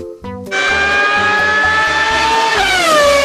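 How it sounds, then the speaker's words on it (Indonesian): A Formula One race car engine revs hard and close, a loud high-pitched whine that climbs and then drops near the end, with a rhythmic low pulsing beneath it. "Mobil balap Formula"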